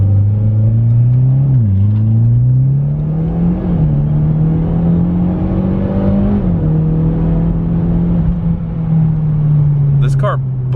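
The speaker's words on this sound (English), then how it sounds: "I'll do a 1st gear pull for you guys." A car engine strains through a hard acceleration, its pitch climbing and dipping over ten seconds, loud and close, with a voice talking over it.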